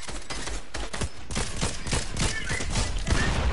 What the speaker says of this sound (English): They're just shooting at me.